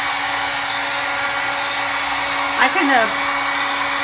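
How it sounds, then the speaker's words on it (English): A heat gun blows hot air onto milk jug plastic: a steady, fairly loud blower hiss like a hair dryer, running throughout, with a brief murmur of speech near the end. "The heat gun has a little bit of blow to it as well, kind of like a blow dryer almost."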